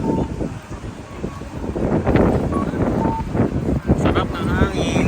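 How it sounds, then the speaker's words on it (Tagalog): Steady wind noise gusts across the microphone throughout, outdoors in Tokyo, Japan, with voices talking in Tagalog over it and some faint background rumble. "Sarap ng hangin."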